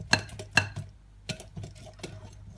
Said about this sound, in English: So we're just going to beat this. Just go straight in with your whisk.